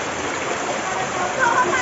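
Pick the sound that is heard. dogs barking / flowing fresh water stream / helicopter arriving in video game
flowing fresh water stream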